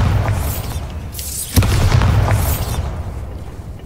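A Bombarda spell detonates in Hogwarts Legacy, a sharp, loud blast near the middle over a busy, rumbling game soundscape with swooshing magic effects before and after.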